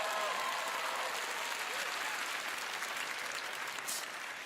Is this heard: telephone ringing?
no